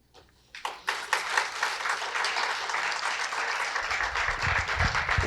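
Audience applause closing a talk by Márcia Cavalcante at a Sempre um Papo event, starting with a few scattered claps and swelling into sustained, dense clapping from a room full of listeners.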